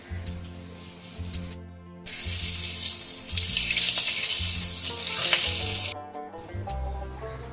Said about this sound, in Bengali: আমি ফোড়নে দেব গোটা গরম মশলা, এলাচ, লবঙ্গ, দারচিনি, একটা তেজপাতা 2 ভাগ করে